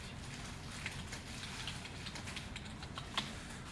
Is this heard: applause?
no